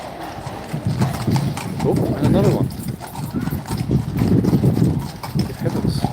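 Hooves of Horse Guards horses clip-clop steadily on a hard surface nearby, a brisk, uneven rhythm of many strikes, while a person talks over them.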